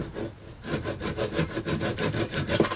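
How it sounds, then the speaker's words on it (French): An old hand saw cuts with steady, rhythmic back-and-forth strokes, each pass rasping loudly at close range after a brief pause at the start. "Alors là, je scie avec mon ancienne"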